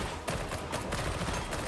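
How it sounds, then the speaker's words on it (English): Dense, rapid gunfire from the video game Warhammer 40K Darktide, with overlapping shots and bursts forming a loud, continuous fusillade with no talking. "There's gotta be a lot of gunfire."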